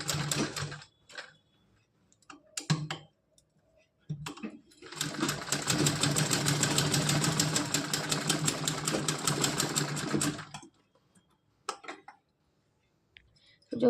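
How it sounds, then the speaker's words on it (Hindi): A sewing machine stitches a small doll's frock for a Laddu Gopal figure in one steady run of several seconds, set between short clicks and handling noises. "तो मैं यहाँ पे मशीन से ही इस पर सिलाई लगा दूँगी।"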